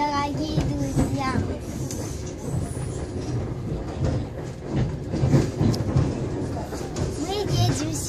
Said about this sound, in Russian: Я в первый раз в жизни еду на поезде.